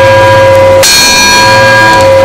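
An old school bell at Yacolt School, rung by pulling a rope, gives one very loud, close clang that swells into a long, bright ringing sustain with the hum of the previous stroke beneath.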